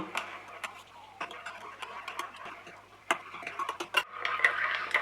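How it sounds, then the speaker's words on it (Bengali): A spoon stirs milk into a cup of cappuccino, giving repeated light, close clinks and ticks against the cup in an irregular rhythm over a steady low hum. "দুধটা দেওয়ার পরে আমরা এবার একটা চামচ দিয়ে এটাকে একটুখানি মিশিয়ে দেব।"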